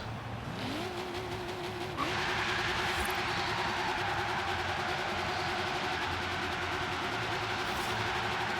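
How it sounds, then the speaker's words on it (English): A car in Forza Horizon 3 spins a donut from a standstill, its engine revving up hard and holding a steady high drone with tire noise, loud and continuous throughout. "We're going to do a donut from stop."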